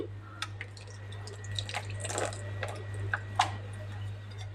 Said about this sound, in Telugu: పులుసు పోసుకుందాం దీంట్లోకి ఇలా పోసుకోవాలి